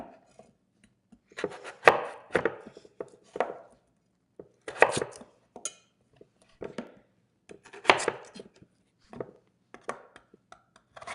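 Idaho potatoes being cut into smaller pieces with a knife on a board, several bursts of close chopping thuds with short quiet gaps between them.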